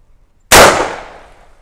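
A single loud shot from a B&T rifle fitted with a flare launcher, a sharp close blast that rings out and decays over about a second.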